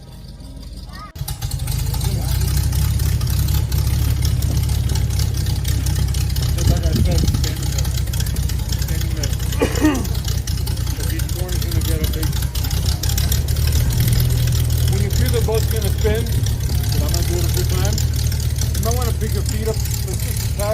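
A tour boat engine idles in the Florida Everglades with a steady low rumble throughout, loud and close, while people talk over it.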